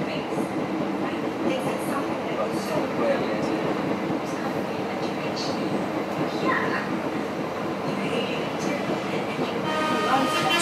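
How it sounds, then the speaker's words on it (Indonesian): The Solo Express passes close to the airport train, a steady, loud rail rumble with rolling wheel noise and a brief horn toot, while people talk in the carriage. "Oh, sudah berpapasan dengan Solo Express rupanya."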